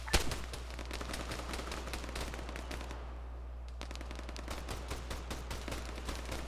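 Machine gun fire in the video game Arma 3: a dense stream of rapid shots over a steady low rumble, with a short lull midway before the bursts resume, fairly close and loud.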